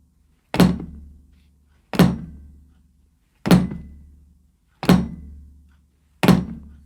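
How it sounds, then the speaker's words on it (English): Five evenly spaced bass drum kicks played heel up, each a deep solo thump with a short decaying tail and nearly even gaps between them. "Play a few beats into the bass drum"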